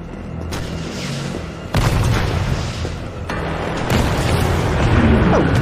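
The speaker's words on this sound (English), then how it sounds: "Oh yeah, fucking rocket launcher!" Nemesis fires a rocket launcher in a video game, heavy booming blasts landing loud and close, with three distinct explosive impacts rolling into a dense, rumbling roar.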